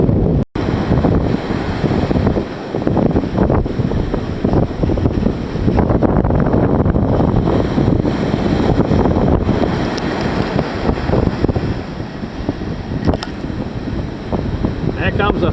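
Wind gusting hard at a beach at low tide, a loud, continuous buffeting roar across the microphone with rough surf noise underneath, steady throughout.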